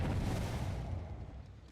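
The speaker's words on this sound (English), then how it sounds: "we found an explosion, so we know that the last survivor is somewhere here" A big boom from an explosion in the video game Dead by Daylight starts loud and rolls off into a long, fading rumble, with no speech over it.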